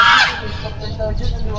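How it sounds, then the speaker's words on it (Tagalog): Several birds call loudly outdoors in a burst of squawks and chirps, with a sharp cry at the start and more calls following, mixed with rustling and human voices nearby. "Aba, ang daming ibon"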